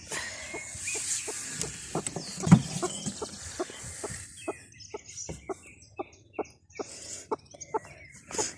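Hen and a premature newborn chick in a small cage, giving a run of short, evenly spaced clucks and cheeps close by, with some handling noise and no talk.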